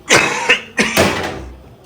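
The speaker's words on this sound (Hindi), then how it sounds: "आपको खांसी हो रही है?" Several sharp coughs in quick succession, close and loud, each burst trailing off before the next.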